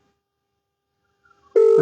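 After near silence, a loud telephone ringtone starts abruptly as an outgoing call connects.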